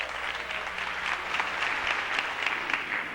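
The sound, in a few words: congregation applause in church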